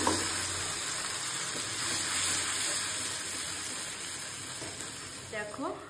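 Poppy seed and chili paste sizzling in hot oil with nigella seeds in a home kitchen, a steady broadband hiss and crackle running throughout at close range, with a faint voice and a brief clink near the end.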